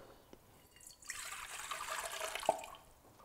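Cold tap water runs into a measuring cup for pizza dough, a steady trickling pour that swells over a couple of seconds, with a small drip or clink near the end and no talking.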